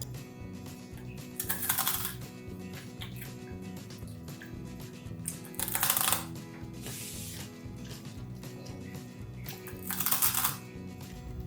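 Crisp crunching bites into crispy puffed rice balls (pori urundai), three bursts of crackling crunch spaced a few seconds apart, close and fairly faint over a steady background clatter.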